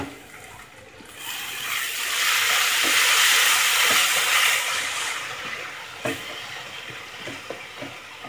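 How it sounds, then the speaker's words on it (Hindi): Tomatoes cooking on a low flame in a covered pan for dal fry, giving a steady soft hiss and gentle sizzle that rises in the middle, with a few faint clinks near the end. "अब हम इसकी लीड बंद कर देते हैं और लो फ्लेम पर हम टमाटर को अच्छे से सॉफ्ट होने तक कुक करेंगे।"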